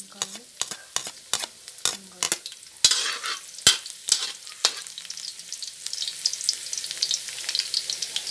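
Hot oil sputters in a wok while pancit guisado is sautéed, with sharp rhythmic scrapes and knocks at first that give way to a dense, bright, crackling sizzle.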